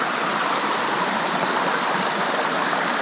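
Stream water flows over a hiking-trail water crossing near waterfalls in Arkansas, making a loud, steady, broadband rush with no breaks, close by and heard alone.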